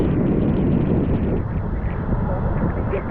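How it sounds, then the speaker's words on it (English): Strong wind buffeting the microphone at Pebbly Beach near Coffs Harbour, a constant low roaring rumble close up with a voice faintly under it. "especially with the wind coming in like this"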